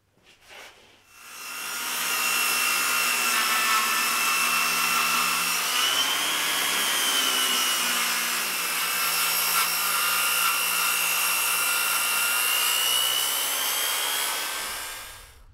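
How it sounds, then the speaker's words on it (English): A Makita power saw cuts along a wooden mast, a steady high-pitched whining and rasping that runs continuously for about thirteen seconds after a brief start, with slight shifts in pitch as the blade works the timber; no talking. "my Makita saw is just a terrific saw."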